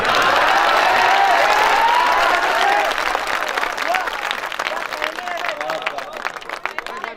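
A crowd at a mushaira poetry recital in Parbhani claps loudly, full and sustained at first, then thinning out while a voice talks over it.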